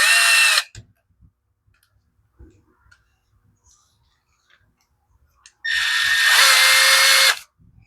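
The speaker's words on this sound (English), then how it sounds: "We'll grab our little handy screw gun." A cordless screw gun fitted with a T27 bit drives bolts on an Echo SRM 225 trimmer, with two loud, close whirring runs, one brief at the start and a longer one near the end, and light handling clicks between them.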